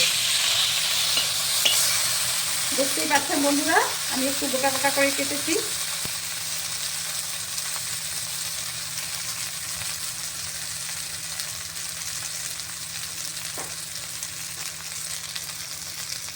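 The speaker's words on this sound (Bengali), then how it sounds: "এটা কাঁচা কলা আর আলু আমি এখন একটু ভাজা ভাজা করে নেব।" Chunks of raw banana and potato fry in a pan with a loud, continuous close sizzle, while a voice speaks briefly over it early on.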